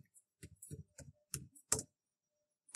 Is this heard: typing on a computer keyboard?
yes